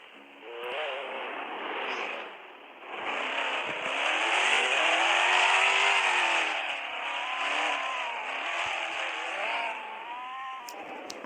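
A car engine revs and roars continuously while drifting, rising and falling in pitch with a long sustained surge midway, close and loud with no talk.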